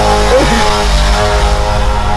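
A motorcycle engine runs loud and close, holding a steady droning roar with a low rumble for the whole stretch and no clear fade in or out.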